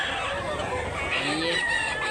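A chicken, a yellow-legged Bandit about a year old, clucks close by in short bursts against busy outdoor background noise, with faint talk around it.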